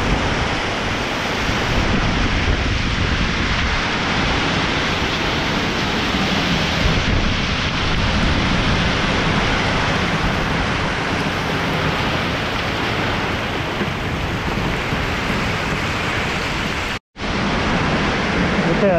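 Heavy rain pours during a thunderstorm in a canyon, a dense, loud, continuous roar of falling water with a brief cut near the end.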